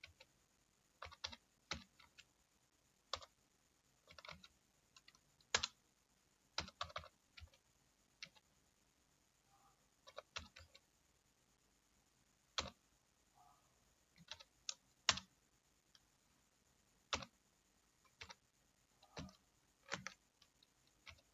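Computer keyboard typing as spreadsheet figures are entered, irregular bursts of crisp key clicks with short pauses between groups, close and fairly quiet, no talking.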